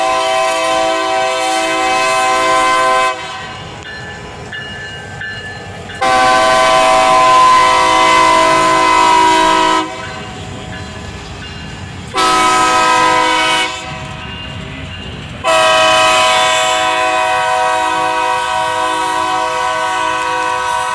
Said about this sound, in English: Here comes the PTRA GATX train at Strang Yard